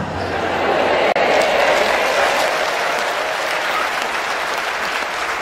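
Audience applause during a Catholic priest's talk on prayer, a loud, dense and steady burst of many hands clapping that fills the whole stretch, with one sharp click near the start.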